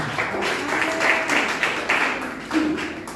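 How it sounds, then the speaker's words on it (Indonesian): Congregation clapping during a church service, a steady round of applause with voices mixed in over the top. "Beri tepuk tangan bagi dia."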